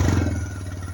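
A motorcycle idles close by after being started with a key, a low throbbing engine rumble with a light clatter running steadily through a single second.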